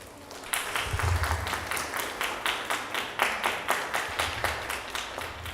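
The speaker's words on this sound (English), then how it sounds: "Big round of applause to sir." An audience at a university chapter-launch event applauds after a talk, a dense wash of many hands clapping steadily with faint rhythmic pulses running through it, sustained throughout at moderate loudness.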